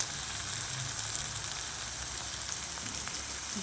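Onion frying in a pan as ginger paste, chopped green chilli and ground cumin go in for a Bengali prawn dish, a steady dense sizzle and crackle heard close, with no talking.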